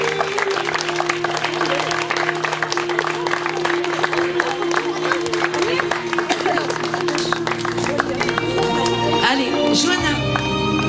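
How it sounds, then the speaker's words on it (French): Wedding guests applaud in a steady, dense wash of clapping that fills the room for the whole stretch, with a sustained musical tone running underneath. "Sous vos applaudissements"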